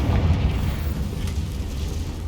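A deep, rumbling blast from the Confringo explosive spell in Hogwarts Legacy, a heavy low boom that opens loud and rolls on as a sustained roar before easing slightly.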